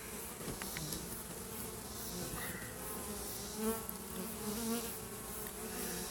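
Steady, dense insect buzzing from many bees, continuous throughout with a few slightly louder passes drifting close, no voices.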